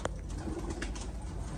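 Pigeons coo softly at close range, with a few low, rounded calls over a steady background hum and no speech.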